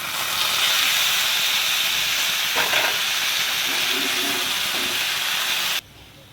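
Yardlong beans and potato hit hot oil with fried onion in a pan, producing a loud continuous sizzling hiss with a couple of stirring knocks before it cuts off abruptly near the end.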